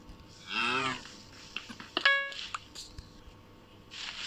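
A Minecraft cow moos once, a clear mid-volume call, followed by a short electronic beep and faint game background noise, with no talking.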